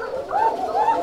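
Rajshahi Giribaj pigeons, a flying breed, cooing close by in rolling, repeated low throaty calls over a steady background hum.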